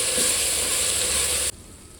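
Ginger garlic paste fries in hot ghee with a bright, dense sizzle, close and steady, then stops abruptly about one and a half seconds in, leaving only faint room noise.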